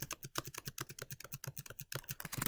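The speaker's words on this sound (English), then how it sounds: "You're actually going to hit your spacebar 10 times." Spacebar pressed repeatedly on a computer keyboard, about ten quick, evenly spaced clicks close to the microphone, followed by more rapid keystrokes, with no talking.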